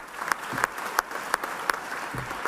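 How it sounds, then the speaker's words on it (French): Applause at a Boeing investment announcement event, with sparse, distinct claps and brief peaks over a steady background murmur, moderately faint. "Une bonne main d'applaudissements pour tout ça et pour cette annonce-là."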